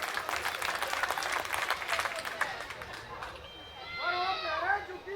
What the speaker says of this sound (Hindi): इनके लिए ताली बजाओ एक बार जोरदार।